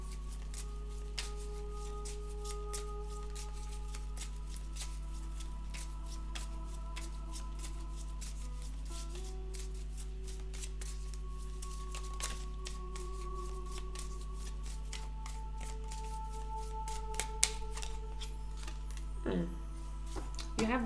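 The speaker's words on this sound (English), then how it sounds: "I also want to pull one card from the Kipper deck." A Kipper card deck being shuffled by hand, steady soft papery riffling and sliding that runs continuously for about twenty seconds at close range, with no talking over it.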